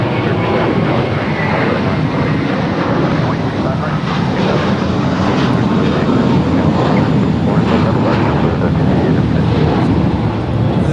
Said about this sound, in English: This departure is JetBlue Airways 1388, departing to Boston to A321 M-I-N-T.